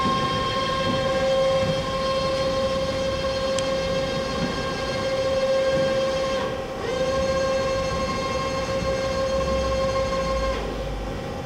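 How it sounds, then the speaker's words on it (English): Ram of a 2012 AWEA CNC table-type horizontal boring mill with a 30 horsepower spindle traveling outward: a steady, even mechanical hum with a sustained whine tone, running continuously at moderate level and briefly dipping midway. "The ram going out."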